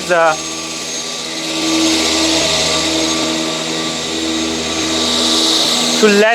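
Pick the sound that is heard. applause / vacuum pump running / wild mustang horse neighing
vacuum pump running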